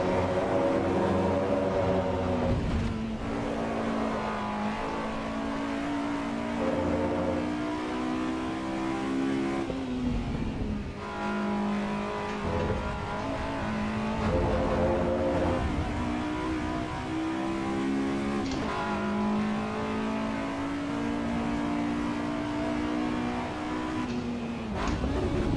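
Race car engine in the video game Assetto Corsa EVO, revving high and downshifting repeatedly, with the pitch climbing and dropping through gear changes in a loud, continuous drone.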